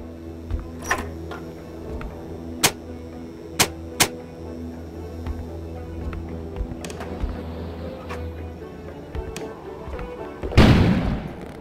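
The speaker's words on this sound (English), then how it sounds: "An explosion suddenly occurred outside." An explosion booms outside in the indie horror video game Kona, a loud low burst near the end that follows scattered sharp clicks and thuds in a quiet game scene.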